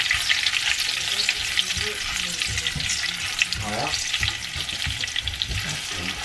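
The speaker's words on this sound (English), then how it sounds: "we'll just fry this up, and there's a bay leaf" Food sizzling and frying in a pan with a bay leaf, steady crackling hiss with occasional stirring scrapes, close by and continuous.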